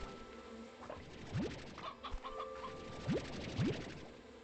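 Candy hens from Slime Rancher 2 cluck at night, with scattered soft clucks and three quick rising chirps spread across the scene at moderate distance.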